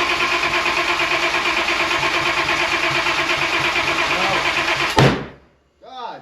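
A car engine cranks and runs loudly for several seconds, then ends in a sudden sharp bang as the intake manifold explodes. A brief silence follows before a voice speaks.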